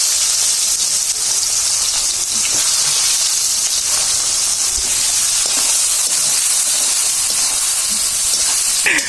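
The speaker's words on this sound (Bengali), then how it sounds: "আর এখন পেঁয়াজ দিয়ে দিব।" Onions sizzle and hiss steadily in a pan, a loud, continuous close-up frying sound with no talking.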